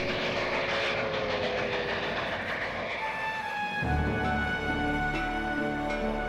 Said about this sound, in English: the train took us deeper and deeper